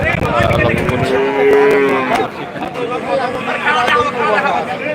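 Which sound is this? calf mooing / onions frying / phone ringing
calf mooing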